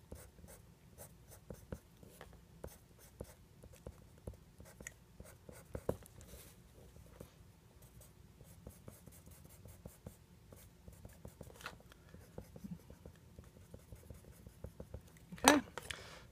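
Colored pencils flick across a small paper card drawing strands of a mermaid's hair, a soft, continuous patter of short scratchy strokes, very close and quiet, with no talking.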